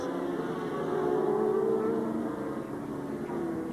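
A fast orange Yamaha superbike ridden hard at a road race, its engine a sustained high-revving drone that swells slightly mid-pass and holds steady, heard at a moderate distance.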